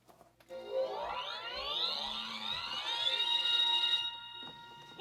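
Marvel Legends Deadpool interactive head toy powering on with an electronic startup effect: a swelling tone that sweeps upward in pitch and grows louder over several seconds before fading, with no speech.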